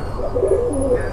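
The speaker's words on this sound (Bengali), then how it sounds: "খুব সুন্দর কোয়ালিটি ফুল কবুতর" Highflyer pigeons give a soft, rolling coo, close and steady, with no talking over it.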